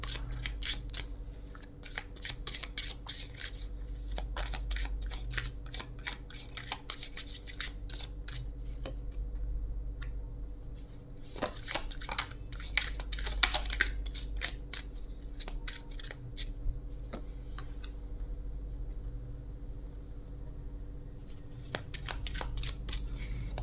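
Tarot cards are shuffled by hand up close, with long runs of crisp riffling and slapping card sounds, brief pauses between bursts, over a steady low hum.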